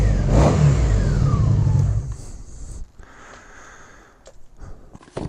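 A limited-production 1987 Honda VF700 Super Magna motorcycle engine revs loudly up close for about two seconds, then drops back to a quieter idle with a few brief blips of throttle.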